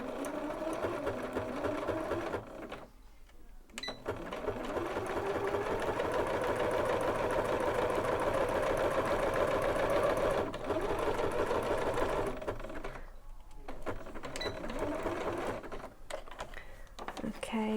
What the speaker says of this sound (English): I'm going to start by sewing some zigzags